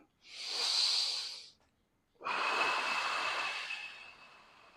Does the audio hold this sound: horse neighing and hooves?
no